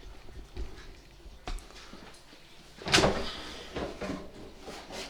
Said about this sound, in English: I'm going to take this drawer out, get it over here so you can have a look